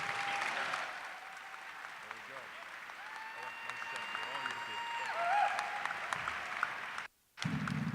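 An audience applauds steadily at a Lansing Promise Scholar ceremony as a speaker takes the stage, the clapping continuous and moderately loud with a brief dropout near the end.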